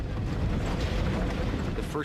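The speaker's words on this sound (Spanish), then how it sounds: "De repente, una violenta explosión sacude el avión." A sustained, heavy rumbling roar fills the whole stretch, dense and loud like the aftermath of a blast aboard an airliner in flight, with no clear onset.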